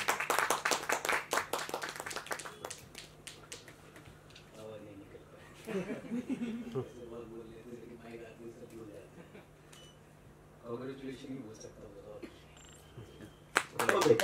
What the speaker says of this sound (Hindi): एक बार जोरदार ताली ईश्वर सर के लिए।